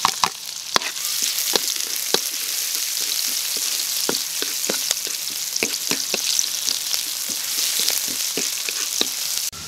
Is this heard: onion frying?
yes